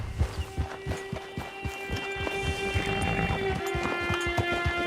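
Horse hooves walking in Red Dead Online, a steady clip-clop of hoofbeats close by over a faint ambient background and a steady tonal hum.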